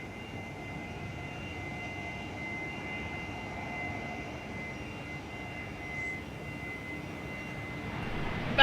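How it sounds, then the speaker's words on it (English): An Amaszonas Bolivia livery jet arrives at Perth from Tropicana as a faint, steady distant engine whine and rumble that rises slightly at the very end. "our Amas Air Bolivia livery is coming in from Tropicana today"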